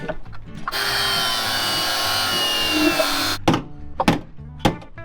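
Power tool cutting through the roof of a Jeep XJ for an offroad build, a sustained harsh grinding whine of several seconds, followed by clunks and knocks of metal being handled nearby.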